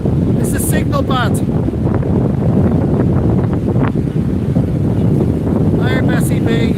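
Blustery wind buffeting the microphone on Blackpool seafront, a constant loud low rumble with gusty surges, while a person speaks intermittently over it.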